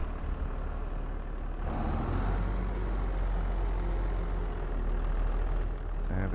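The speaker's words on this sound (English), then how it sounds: "Right, get the tractor fired up." Tractor engine in Farming Simulator 22 starting up and settling into a steady, loud diesel rumble, with a brief hiss near the end and no talk over it.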